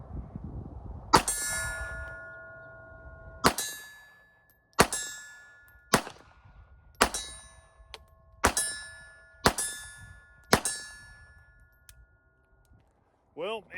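A Beretta Tomcat .32 ACP pistol fires eight sharp, loud shots downrange at uneven intervals, each cracking report followed by a ringing metallic tail, outdoors at a range.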